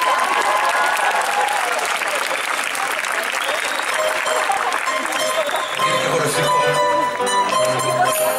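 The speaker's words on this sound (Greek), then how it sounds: "Ένα θερμό χειροκρότημα σε αυτή την εξαιρετική Big Band." A live theatre audience applauds a big band, with sustained, dense clapping from a large crowd that carries on throughout, while a voice speaks over it and music begins underneath near the end.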